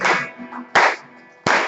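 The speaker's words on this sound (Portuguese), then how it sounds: "Com as palmas, irmão. Com as palmas." Church congregation clapping hands in three loud, separated bursts at a worship service, each a short sharp wash of claps with quieter gaps between.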